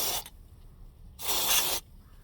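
White lithium grease sprayed from an aerosol can into a rusting fender signal lamp bracket on a 2004 Montana: a short hissing burst, a pause, then a longer steady spray of about half a second, close and alone.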